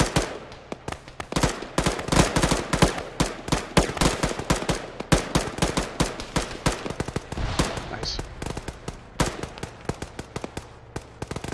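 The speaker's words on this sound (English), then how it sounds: "They're getting shot up from further up the road." Dense, rapid gunfire from a ShackTac session of the military game Arma: sharp cracks and automatic bursts keep firing for the whole stretch, loud and overlapping, with a faint voice underneath at times.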